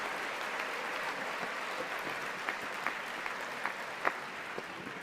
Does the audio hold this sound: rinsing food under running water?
no